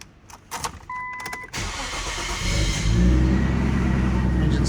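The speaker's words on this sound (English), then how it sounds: "Engine starts up with no issues." A Nissan Skyline R34 coupe's turbocharged engine cranks briefly, then catches and roars to life, settling into a loud steady idle close by.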